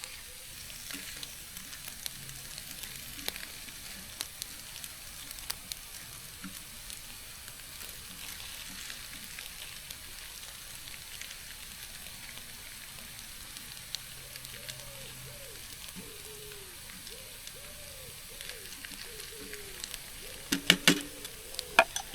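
A steady, quiet sizzle of a teriyaki noodle stir fry frying in a pan at a campsite runs throughout, with faint scraping and a few clatters near the end.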